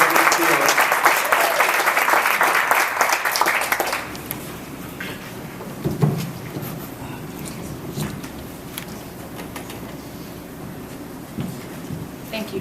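A crowd at a press conference for the Bay to Breakers elite runners gives a full round of applause, loud and dense for about four seconds, then tapering off to a few scattered claps under room noise and murmuring.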